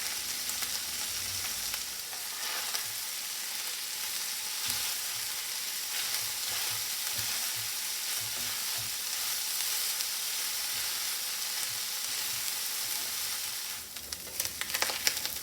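Corn kernels seasoned with pepper sauté in a hot pan for a Mexican street corn salad, giving a steady, close sizzle and crackle that runs without a break, with a few clinks near the end.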